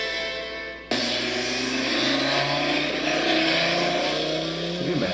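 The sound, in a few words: car engine revving with side pipe exhaust cracks and bangs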